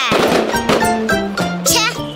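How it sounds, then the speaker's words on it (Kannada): Several sharp firecracker bangs burst out at irregular intervals over a steady tonal, humming background. "ಓ, ಅಲ್ಲೂ ಪಟಾಕಿ ಹೊಡಿತಿದ್ದಾರೆ."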